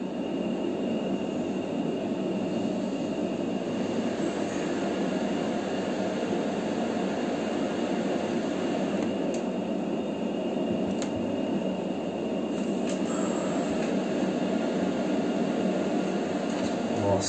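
Phantom F4 jet engines at full power during takeoff, a loud, steady roar heard from inside the aircraft, unbroken for the whole stretch with faint clicks from the cockpit.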